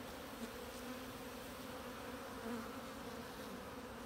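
Honeybees hum steadily around colonies in beehives, a dense continuous buzz close by with a few individual insects briefly rising above the swarm drone.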